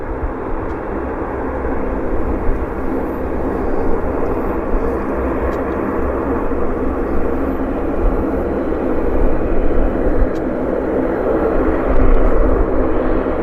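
A Dassault Falcon 50 business jet lands at Vancouver airport, a steady broad jet roar holding at a distance for the whole stretch, swelling slightly toward the end.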